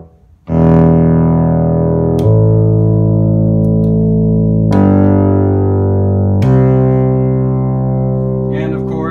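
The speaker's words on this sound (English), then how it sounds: "The famous Taurus sound." Moog Taurus bass pedal synthesizer in its classic voice, sustaining thick, loud low notes that change pitch three times, rich and droning with no gaps, heard alone up close.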